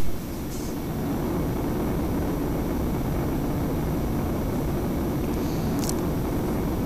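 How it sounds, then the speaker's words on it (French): Concorde engines at full throttle with afterburner engaged for takeoff in a flight simulator game, a loud, dense, unbroken roar heavy in the low end that holds steady throughout, with faint brief ticks; nobody speaks. "vous mettez la post-combustion. Bien, une fois que vous avez vérifié qu'elle est bien enclenchée, vous comptez 3, 2, 1, top décollage, les gaz à fond"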